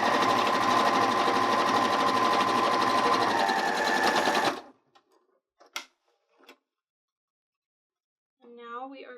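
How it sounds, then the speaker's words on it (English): A sewing machine fitted with a top stitching foot runs steadily and loudly for about four and a half seconds while backstitching and then sewing a seam, stopping abruptly into a few faint clicks and handling noises, then a brief voice. "Don't forget to back stitch and then sew along."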